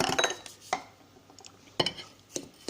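Coffee scrub being mixed with sweet almond oil in a bowl, heard as a few close, separate clinks and scrapes of a spoon against the bowl with quiet gaps between them.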